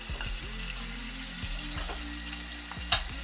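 Mussels frying in a pan, a close steady sizzle with stirring scrapes and a sharp pop near the end, no voices.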